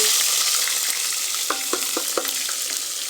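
Ginger and garlic fry in hot oil in a pan for a fish curry, a loud, steady close sizzle with a few sharp utensil taps and scrapes as the mixture is stirred.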